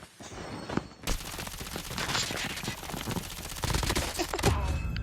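Sustained automatic gunfire in the mobile shooter Call of Duty Mobile, with a couple of isolated shots followed by a long, dense stream of rapid fire and a few heavier impacts near the end.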